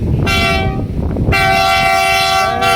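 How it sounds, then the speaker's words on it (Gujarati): A freight train of petrol tanker wagons rumbles past close by while its horn sounds loudly twice, a short blast followed by a longer one. "માલગાડી છે. માલગાડી ડબ્બાવાળી નથી. ઓલે પેટ્રોલ ટાંકાવાળી છે ટ્રેન."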